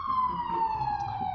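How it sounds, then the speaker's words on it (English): A police siren wails far off in a big city, a single sustained tone drifting slowly downward, faint and steady with a low rumble of distant traffic beneath it. "the police siren in the distance."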